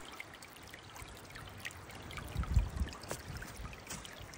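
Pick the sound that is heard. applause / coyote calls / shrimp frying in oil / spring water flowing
spring water flowing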